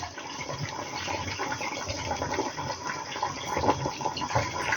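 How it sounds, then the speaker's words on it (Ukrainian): 9% vinegar pours steadily into a glass for several seconds, a continuous close splashing gush with no talking. "В цей же шмірний стакан наливаю 250 грамів оцту."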